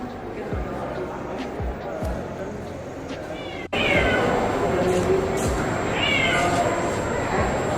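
Short hair cats meowing at a cat show judging ring, several plaintive meows rising over a busy hall with crowd chatter, people talking nearby and a sudden jump in loudness midway.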